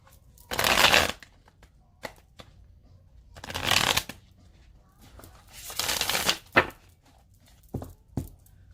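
Tarot deck shuffled in several distinct bursts of riffling cards, close and fairly loud, with short soft taps and pauses between them and no talking.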